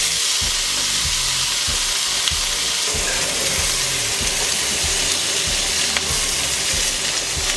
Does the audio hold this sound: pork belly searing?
yes